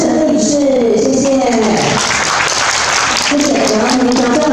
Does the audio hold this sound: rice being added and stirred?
no